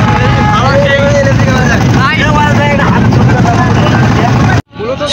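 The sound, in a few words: boat moving on a river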